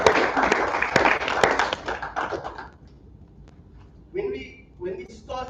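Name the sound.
audience applause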